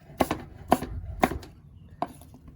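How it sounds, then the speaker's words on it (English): Knife chopping apples and onions on a board, four sharp distinct cuts: three evenly spaced, then a pause and one final chop, close and clear with no talk. "you can cut the apples and the onions into whatever shapes you want"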